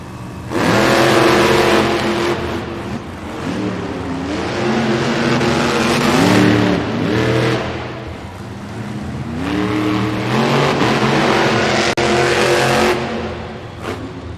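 Monster trucks Sparkle Smash and Velociraptor launch off the start line at a Monster Jam event in Los Angeles' Crypto.com Arena, their engines roaring loud and continuous with repeated rising and falling revs and no pause throughout.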